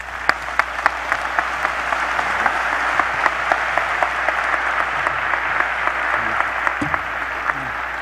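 A crowd at a university commencement ceremony breaks into sustained applause, dense steady clapping with sharp individual claps standing out, filling the hall for several seconds without speech.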